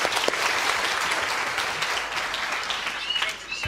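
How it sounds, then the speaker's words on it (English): Audience applause at a live science show, a full, even wash of clapping that holds steady and fades slightly at the end, with faint voices mixed in. "And a big round of applause."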